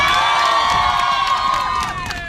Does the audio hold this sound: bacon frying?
no